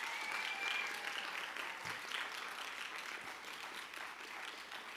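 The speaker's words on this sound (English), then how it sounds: "students, please just give a loud round of applause to our teachers, please" Students at a high school fine arts awards ceremony giving their teachers a long round of applause, a full, steady roar of many hands clapping at once that eases slightly as it goes on.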